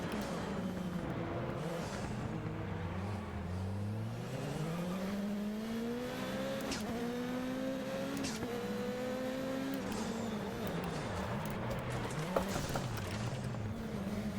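A rally car engine in Dirt Rally 2.0 drones steadily, its pitch sweeping up and down as the car accelerates, shifts and revs through corners. Gravel crunches and knocks under the engine, and nobody speaks.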